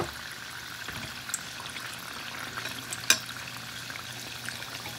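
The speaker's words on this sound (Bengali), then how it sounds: "তো এবার তেলের পিঠেগুলো ভাজা করে নেব।" Oil pithe, rice cakes made with date-palm jaggery, fry in hot oil with a soft, quiet bubbling sizzle that runs on, marked by a few small clinks and pops.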